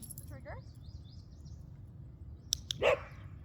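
A dog barks in a short cluster of sharp, close yaps near the end, after a few bird chirps over a quiet outdoor background.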